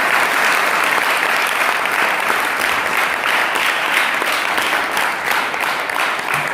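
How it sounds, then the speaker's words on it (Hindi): An audience at a Vacation Bible School inauguration applauds together in a dense, loud, sustained wash of clapping that holds steady throughout. "इसलिए हम सभी लोगों के लिए भी एक बार मिलकर ताली बजाएं।"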